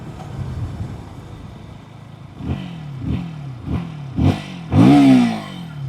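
A 160cc sport motorcycle engine is revved in five short blips, each louder than the last, with a throaty exhaust note between quieter idling.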